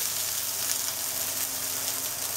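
Onion, ginger and garlic roasting in a pan make a steady, even sizzle with a faint low hum, close and unbroken for a couple of seconds.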